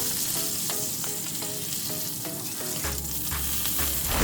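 Chicken fries in a pan, a dense, close sizzle that holds steady throughout with faint rhythmic ticking from the stove and a low hum joining near the end.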